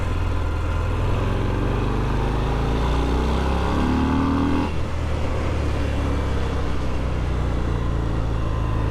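Harley-Davidson Fat Bob motorcycle shifted into second gear and leaned through a corner, with a loud, steady engine drone that shifts in pitch partway through and carries continuously.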